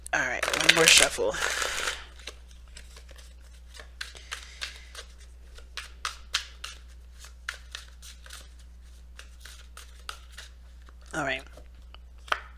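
Tarot cards are shuffled close up, a loud riffling burst at first followed by a long run of soft, rhythmic card slides and taps, with a brief voice near the end.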